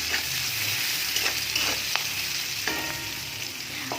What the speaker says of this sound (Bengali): পেঁয়াজগুলোকে একটু নরম করে ভাজবো।